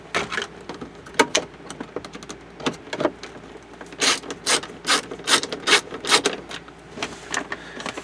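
Screws are driven back into an old, brittle plastic panel on a 2000 Mercedes ML55 AMG, giving close, uneven bursts of ratcheting clicks and squeaky turning, with short gaps between screws.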